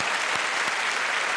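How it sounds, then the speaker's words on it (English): Loud, dense audience applause at a magic show as two volunteers are called up on stage, a continuous wash of clapping throughout. "Friends, give them a nice round of applause."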